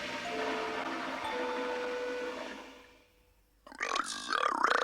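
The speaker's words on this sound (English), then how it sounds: "This burp is for you." A cartoon character's drawn-out, rumbling burp, loud and close, fading over about three seconds, then a brief pause and a croaky, voiced belch.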